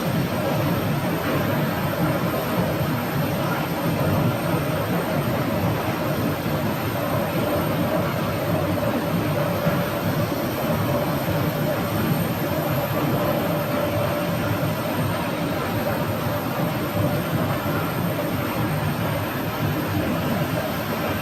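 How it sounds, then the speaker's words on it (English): A departing airliner bound for Cedar Rapids, Iowa spools up its jet engines after pushback at Phoenix airport, giving a steady, loud broadband roar with a faint whine that holds even throughout. "Starting up its engines."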